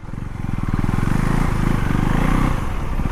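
A new motorcycle engine revs hard while being ridden, a loud, close, pulsing drone that climbs and holds steady before easing off near the end.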